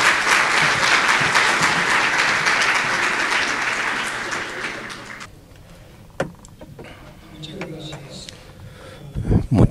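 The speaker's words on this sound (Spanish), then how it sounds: "Un fuerte aplauso para ellos." An audience at an academic lecture on mathematical modelling claps loudly and steadily for about five seconds, then the applause fades into scattered handling noises and a few soft knocks.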